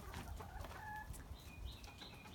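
Chickens clucking in a backyard coop fed by a rainwater watering system, with doves and pigeons nearby; scattered clucks and a few squawking calls sound close over a steady rustling farmyard background.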